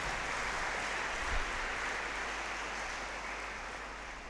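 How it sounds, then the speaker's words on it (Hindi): An audience at a feast celebration for St. Francis of Assisi breaks into applause, producing a dense, even roar of many hands clapping that holds steady and fades slightly toward the end. "इनके लिए तालियां तो बनती हैं"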